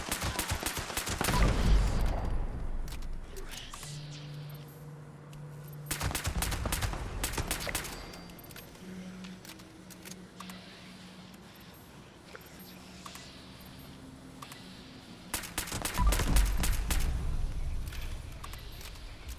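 Weapon fire in the video game Fallout 76 comes in several loud bursts of rapid shots separated by quieter stretches of game ambience and low tones.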